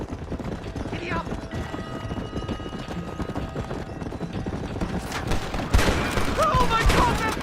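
In the Red Dead Redemption video game, a horse gallops with rapid, steady hoofbeats under a busy game soundtrack, with gunfire bursts and shouted voices joining toward the end.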